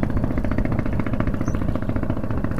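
Motorcycle engine revving hard at Muara Binanga, Sangkara, a loud, steady, close rumble with rapid pulsing firing strokes across the whole stretch and no pauses.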